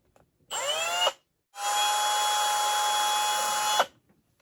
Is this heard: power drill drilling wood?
yes